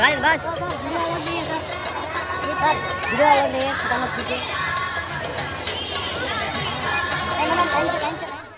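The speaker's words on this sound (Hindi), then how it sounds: "भीड़ देखिए" Crowd by the Ganga river: a continuous hubbub of many voices, children shouting and chattering among adults, with no single voice standing out.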